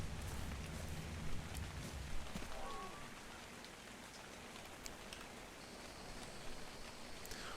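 Faint, steady acid rain patters softly in ARK Survival of the Fittest, a continuous wash of raindrops with no other clear sounds on top.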